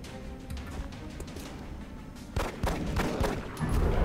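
Pistol fire in the XCOM Long War video game: a few sharp shots ring out, then louder, denser bursts crackle and boom in the second half.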